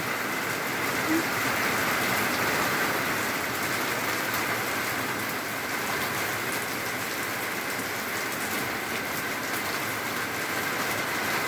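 A constant wash of heavy rainfall hisses evenly throughout, close and loud, with no talking.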